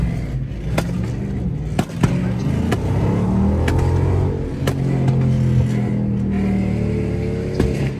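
A car doing donuts nearby, its engine revving and roaring in a steady loud rumble with tire noise, while people talk and shout over it throughout.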